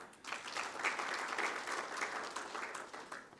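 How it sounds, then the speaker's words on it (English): An audience at a fertilizer organisation's rebranding and website launch event claps. The applause is steady and continuous for about three seconds, heard at a low level and somewhat distant, with no clear talking. "Can we also give them a hearty clap?"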